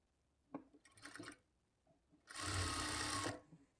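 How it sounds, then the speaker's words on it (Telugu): An electric sewing machine stitches the neck and shoulder seam of a lined blouse: a brief first run, a pause, then a longer steady whirring burst, close and alone. "ఈ నెక్ దగ్గర నుంచి స్టార్ట్ చేసుకొని హాఫ్ ఇంచ్ మార్జిన్తో స్టిచ్ చేసుకోవాలి"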